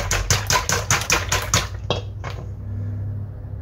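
Eggs are beaten in a bowl for a Spanish country omelet with serrano ham: a quick, steady run of about six rhythmic clacking strokes that stops abruptly, followed by a couple of faint knocks and quiet room noise.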